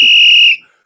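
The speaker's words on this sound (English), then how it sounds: "You know you're going to get the big whistle for this one" A single loud, piercing whistle blast for a livestream super chat, held steady for about half a second then cut off cleanly, close and alone.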